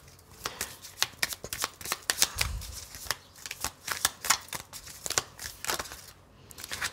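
Playing cards are handled and laid down on a table during a card game, a close run of crisp snaps, flicks and slides coming in irregular bursts.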